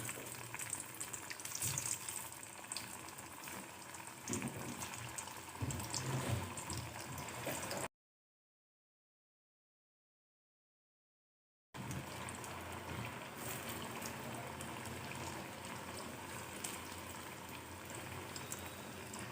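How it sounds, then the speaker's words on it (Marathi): Spinach vadi pieces frying in hot oil make a soft, steady bubbling sizzle in two stretches, broken by a few seconds of silence. "आपण आता हे वड्यात तळून घेऊया."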